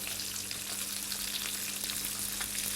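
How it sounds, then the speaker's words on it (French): Escalopes of foie gras fry beside quails in a pan with little oil, a dense steady sizzle and crackle of rendering fat, close and even throughout, no voices. "Je mets mes escalopes de foie à cuire à côté pour que la graisse qui fond du foie parfume mes cailles."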